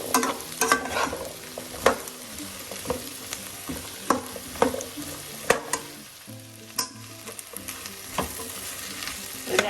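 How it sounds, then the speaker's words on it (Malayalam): Lady's finger (okra) and potato are stir-fried in a pan, with a constant sizzle broken by repeated scraping and clattering strokes from a spoon. "എല്ലാം കൂടെ ഒന്ന് മിക്സ് ചെയ്യാം."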